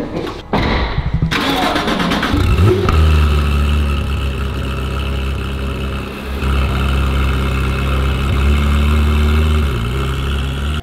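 A Ferrari 488 Challenge race car's 3.9-litre twin-turbo V8 cranks and fires up loudly nearby, then rumbles and revs in rising and falling surges before settling into a deep idle.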